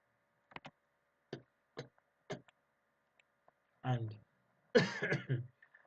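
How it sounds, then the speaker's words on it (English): Several short, sharp coughs or throat clearings in a row, close and fairly quiet, followed by a person starting to talk. "sorry about the cough"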